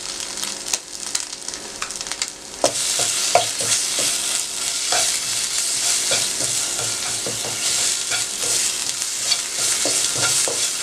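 Tomato paste, about a tablespoon, stirred and fried in a pan for bread bites, with a strong sizzle and repeated rhythmic spoon scrapes and taps, close and loud, no talking.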